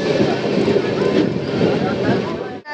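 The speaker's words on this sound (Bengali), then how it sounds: "রেল লাইনের বুক চিরে কিন্তু আমাদের ট্রেন এখন 125-এর গতিবেগে ছুটে চলেছে" The Dhauli Express runs along the rails at about 125 km/h, a loud steady rumbling roar with rushing wind noise filling the short stretch before cutting off abruptly.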